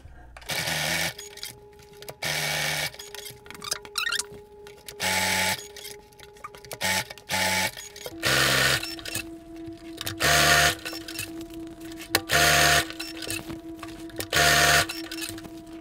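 Sewing machine stitching darts at the base of a fabric scrap bag: repeated short bursts of rapid mechanical stitching, each a second or so long, separated by brief pauses and handling noises.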